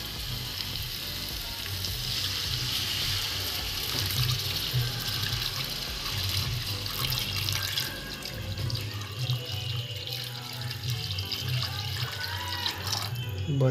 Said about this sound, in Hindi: चलो थोड़ा सा पानी डाल देते हैं।